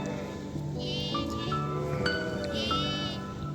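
Several sheep bleat in a wavering, overlapping chorus at close range in Romania, with calls rising and falling across the moment and a steady outdoor background underneath.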